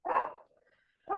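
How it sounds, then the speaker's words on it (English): A chihuahua gives one short, close bark that tails off into a faint whine, followed by the start of another bark at the end. "some barking chihuahua"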